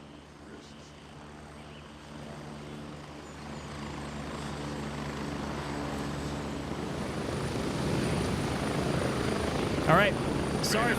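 Helicopter in flight in the Gray Zone Warfare video game, a steady rotor drone with engine hum that builds louder toward the end, heard alone without talk.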